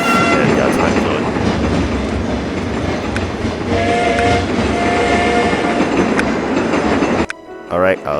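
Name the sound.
train locomotive sounds in TrainStation 2 video game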